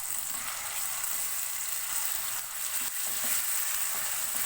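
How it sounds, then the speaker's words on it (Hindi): Garlic-ginger paste frying with onions in a pan, a steady bright sizzle and crackle that holds evenly throughout, close and continuous, with faint stirring scrapes and no voices. "1 मिनट के लिए प्याज के साथ इसको भून लेंगे।"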